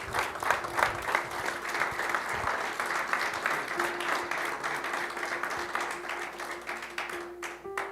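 A church congregation applauds during a sermon, a broad, sustained wash of many clapping hands at moderate level that carries evenly for several seconds before tapering off.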